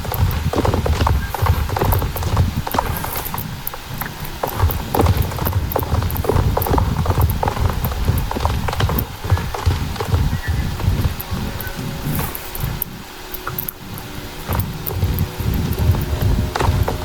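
Horse hooves clip-clop steadily in the video game SSO (Star Stable Online), a continuous rhythmic walking gait close and loud, with occasional rustling and a brief whinny.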